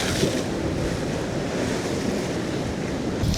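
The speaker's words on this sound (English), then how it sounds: "And then you've got the crashing wave." Ocean waves crashing on a seaside shore, a continuous loud roar of surf and spray with wind buffeting the microphone, close and unbroken with no talk.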